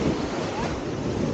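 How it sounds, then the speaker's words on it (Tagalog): Storm-driven ocean waves off La Union during a typhoon, heard from a fishing outing as a dense, continuous roar of surf with wind buffeting the microphone, loud and unbroken, with no voices. "Grabe yung mga alon"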